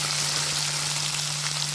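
Onion pieces added to hot oil with ginger-garlic paste and spices, frying with a steady, close hiss of sizzling throughout for a jackfruit curry, with no one talking.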